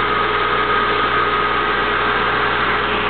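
A Siemens 6.1 HP 460 V three-phase electric motor runs on a rotoverter setup at 3,000 RPM, giving a steady, loud, even hum with a constant whine and no variation.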